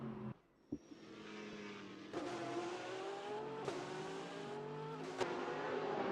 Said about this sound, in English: You can just hear the sound of that Porsche as it shifts up